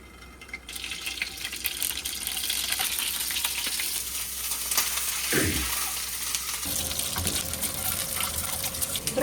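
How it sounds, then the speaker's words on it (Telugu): Dried prawns frying on a second stove for an egg curry, giving a steady, close hiss and sizzle that runs throughout, with a brief low scrape partway through. "అలాగే రొయ్యల్ని కూడా ఇక్కడ ఇంకో స్టవ్ పైన ఇలా ఫ్రై చేస్తే బాగుంటుంది"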